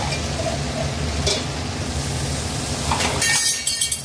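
Vegetables drop into a frying pan with prawns for one-pot rice, and a steady close sizzle of hot oil follows, with a brief clatter and scrape of a utensil near the end.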